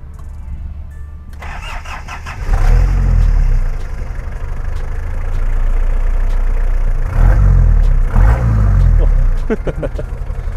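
A Daihatsu Taft Rocky engine cranks and catches, then settles into a loud, steady idle with a couple of brief revs, recorded close to the vehicle.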